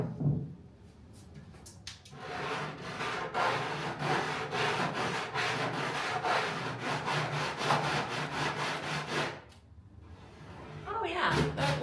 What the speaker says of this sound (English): Maybe I need to do a little bit with a sanding paper